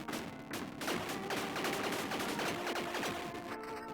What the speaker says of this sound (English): What is this? A grenade launcher?